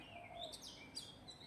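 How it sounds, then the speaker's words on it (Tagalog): Bird chirping in Hong Kong: a quick run of thin, high tweets and a few sharp chirps over a faint background hum, fairly soft and heard alone. "The bird is so noisy."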